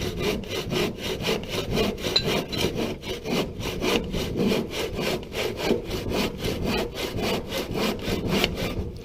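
Hand saw cutting a miter in a wood piece for a picnic table bench support, a steady rhythmic rasp of back-and-forth strokes, close and continuous throughout with no talking.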